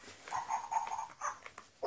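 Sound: interactive toy puppy making dog sounds

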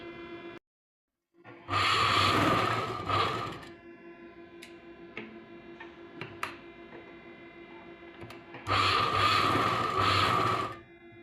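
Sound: sewing machine stitching blouse piping

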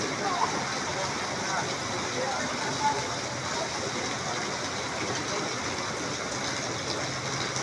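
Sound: heavy rain in Lopez, Quezon

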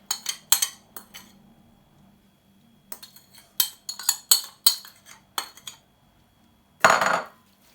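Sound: stirring food in a bowl with a spoon

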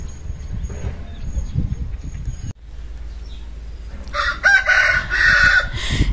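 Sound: rooster crowing and chickens

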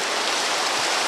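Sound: rain falling in a video game

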